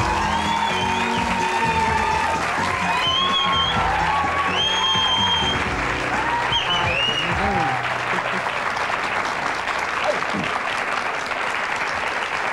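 Studio audience applauding and cheering loudly as a television guest is welcomed, a dense continuous wall of clapping with whoops and voices mixed in throughout.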